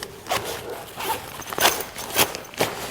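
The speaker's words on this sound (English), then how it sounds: "You can zip that up, which basically enables it to have one big open system." A zip on a compartment of a Berghaus Freeflow 30+6 women's rucksack is pulled in several quick rasping strokes, close and distinct, with no talking.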